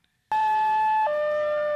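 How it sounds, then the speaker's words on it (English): A film's ambulance siren wails loud and steady, two sustained tones with an abrupt pitch drop partway through, starting after a brief silence. "The ambulance."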